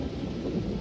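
Stormy weather in the video game Reign of Nightfall: a steady wash of rain with deep rumbling wind or thunder underneath, continuous and fairly loud, with no voices.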